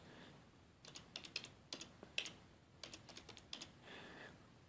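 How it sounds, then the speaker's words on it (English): A password is typed on a computer keyboard: quiet, irregular clusters of crisp keystroke clicks with short pauses between bursts. "when you type the password"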